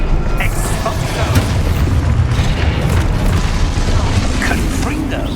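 Exposo explosion spell blasts in the Hogwarts Legacy video game, a dense, continuous rumble of booms and bursts that stays loud throughout with no pauses.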